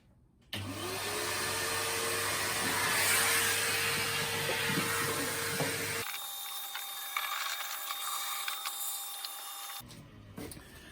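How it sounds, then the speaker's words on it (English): A vacuum cleaner hoovers out the pollen filter housing of a Citroen C3 Picasso, with a loud, close, steady motor whine that starts abruptly, then shifts to a thinner suction tone halfway through before cutting out. "So we'll give it a little hoover in there."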